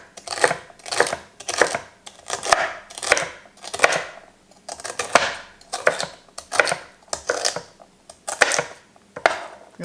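A knife chops celery on a board in quick, even bursts of crisp cuts, repeated steadily and close up with no voices.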